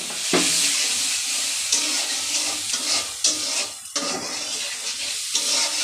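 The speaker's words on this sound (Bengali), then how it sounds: "আমার মশলাটা কষানো হয়ে আসছে, তেল উঠে আসছে" Spice paste with turmeric and salt sautés in oil for a taro root and shrimp curry, a steady close sizzle broken by scraping stir clatters throughout.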